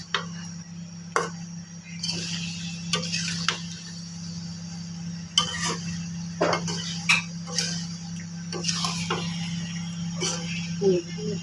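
Raw mango pickle with mustard being stirred and mixed: a series of sharp clinks and scrapes of a utensil against a pot, spaced irregularly over a low steady hum.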